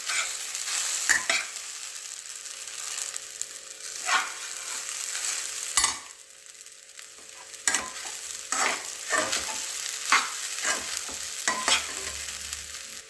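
Sabudana khichdi being stirred in a pan with a spoon, a steady faint sizzle under irregular scraping and clinking strokes against the pan, close and without voices.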